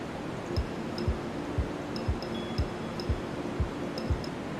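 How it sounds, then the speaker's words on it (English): Steady white-noise hiss fills the background at low level, with soft regular thumps and faint clicks ticking through it about twice a second; nobody speaks. "I gotta put the white noise on again"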